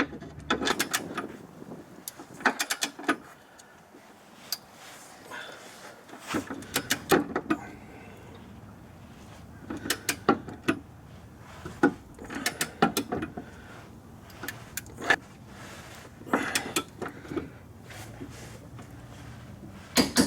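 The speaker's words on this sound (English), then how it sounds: "We got our torque wrench dialed in to 110." A torque wrench tightens tow hitch bolts on a Kia Sorento or Hyundai Santa Fe to 110 foot-pounds, giving repeated sharp ratcheting clicks in irregular bursts throughout a quiet garage.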